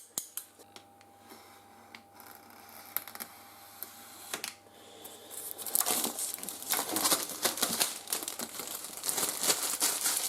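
Cardboard packaging for a Lenovo Yoga Smart Tab tablet being ripped open: a few sparse crinkles and taps at first, then several seconds of loud, dense tearing and crackling of paper and plastic, close to the microphone.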